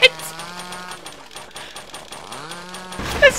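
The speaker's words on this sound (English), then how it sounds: "he's got a fucking chainsaw" A chainsaw revs in the horror video game Mad Father, a steady buzzing drone with rising and falling pitch over a few seconds, loud and close.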